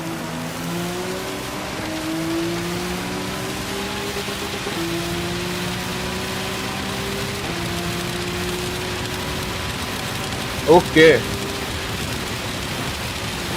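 Steady rain hiss in a Porsche 911 GT3 RSR racing simulator game, spread evenly under the droning engine tone with its shifting gear pitches, while voices chat over it.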